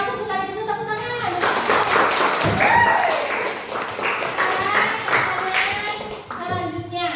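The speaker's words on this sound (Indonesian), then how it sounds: "Bisa tepuk tangan." A classroom group claps hands on cue during a teaching exam session, a few seconds of close, irregular clapping with voices speaking before and after it.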